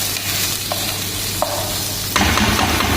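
Sweet corn sautes in hot oil in a pan, a continuous sizzle broken by a few soft stirring scrapes, growing louder near the end as the food is moved around.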